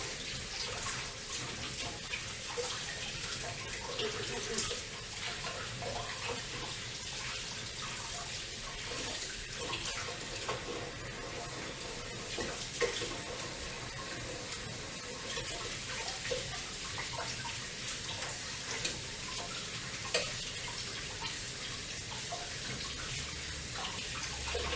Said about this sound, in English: I'm just going to rinse my hands first.